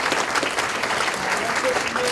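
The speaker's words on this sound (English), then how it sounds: "really deserve everybody's respect and applause here" Audience applause after a school event tribute, steady dense clapping from a crowd, loud and continuous with some voices mixed in.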